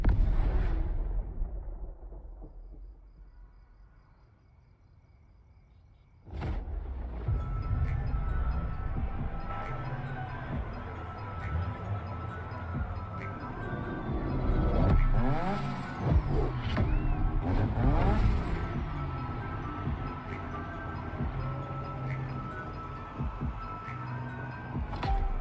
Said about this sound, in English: Ще дрифтим с Mazda RX-7.